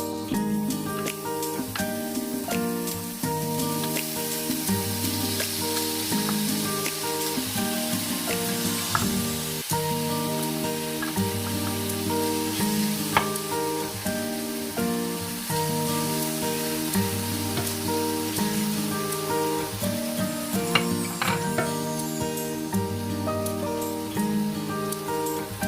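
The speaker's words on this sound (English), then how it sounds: "Next, roast the coconut shreds in the frying pan." Coconut shreds roast in a frying pan, giving a steady, dense sizzling crackle that runs unbroken from start to finish with no voices.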